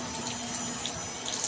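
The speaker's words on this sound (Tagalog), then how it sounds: "Lagi may tubig, oh." Water gushes steadily from the outlet of a solar-powered pump on a farm in Lian, a continuous close splashing flow with no voices.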